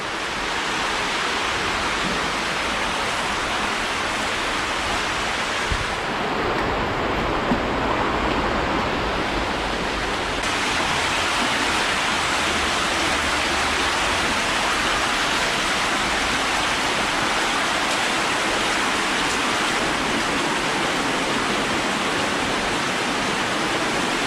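Loud, constant roar of water rushing through an underground channel beneath Sheffield, dense and unbroken throughout, with a slight change in tone partway through.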